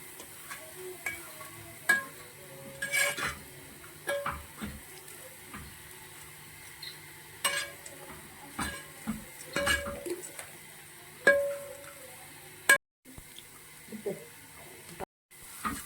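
Sweet beaten rice (avval) mixed with nuts in a pan, irregular scraping and clinking of a spoon against the vessel with soft rustling between strokes, close and intermittent, with faint sizzle and occasional brief dropouts.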